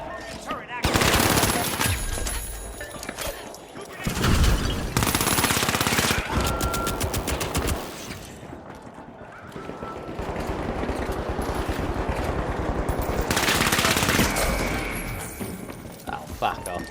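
Automated turret in the shooter game The Finals firing bursts of rapid gunfire, loud and close, broken by brief pauses, with thuds and explosions mixed in and a voice talking over it.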